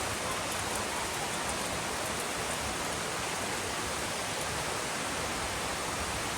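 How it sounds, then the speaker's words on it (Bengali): Heavy rain pours down steadily, heard from a veranda as a dense, unbroken roar of falling water with no let-up. "প্রচুর বৃষ্টি হচ্ছে।"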